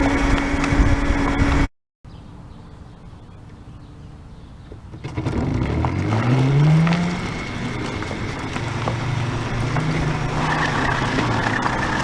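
Aerial Atom go-kart driving during a steering test, its engine note rising and falling with a revving sweep after a brief dropout, steady and fairly close, no talk.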